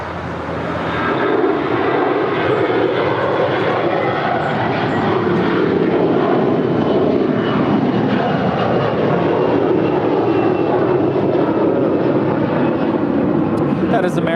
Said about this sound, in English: That is American Airlines 990 departing to Atlanta. It's a 21-year-old Airbus A321.